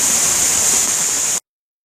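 Water rushes over slippery rock on a rainy winter hillside, a steady loud hiss of falling water close by that stops abruptly.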